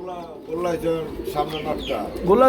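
Pigeons cooing at a Bangladeshi pigeon market, a close, continuous chorus of throaty coos and warbles with a person talking over them.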